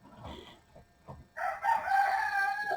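A rooster crows loudly and close by, a strong sustained call rising after a moment of quieter low rumbling sounds.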